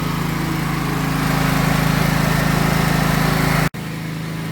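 A power generator engine runs at a home in a village near Ternopil during a blackout. Its close, loud, steady drone holds throughout, broken only by one brief dropout near the end.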